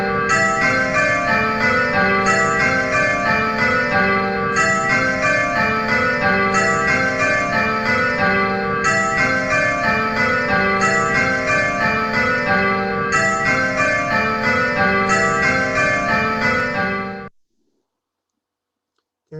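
Six church bells ring in repeated rounds, each bell striking in turn in a steady, even rhythm with bright overlapping tones, loud and continuous for about seventeen seconds before stopping abruptly into silence.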